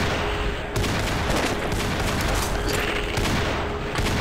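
Dense, continuous gunfire from the video game Half-Life, a loud, sustained burst of shots with booming impacts filling the whole stretch, with no talk over it.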